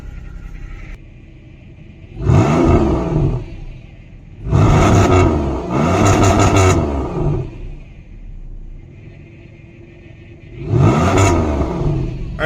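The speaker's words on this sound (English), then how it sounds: "You hear that whining? Power steering pump." A Honda Civic EJ1 on the road with a whining power steering pump, engine surging in three loud close bursts of revving and whine separated by quieter idle-like stretches.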